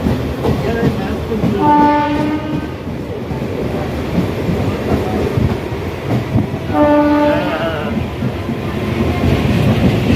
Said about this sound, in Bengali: ট্রেন আমাদের ছেড়ে দিয়েছে।